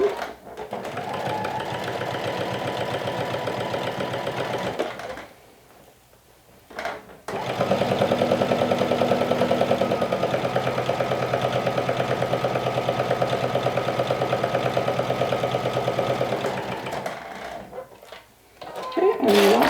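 A sewing machine stitches the cuffs of a lumberjack shirt in steady, close runs of rapid stitching, breaking off for short pauses between passes.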